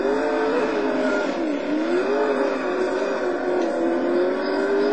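Lister Storm race car engine in a racing video game at Talheimring, a loud sustained whine that rises and dips with throttle changes as the car is driven hard, steady throughout with no talk.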